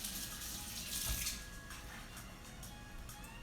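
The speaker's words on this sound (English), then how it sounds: "Rinse my hands." Tap water runs steadily into a kitchen sink as hands are rinsed under the stream, a soft, even splashing rush throughout with a slight swell near the start.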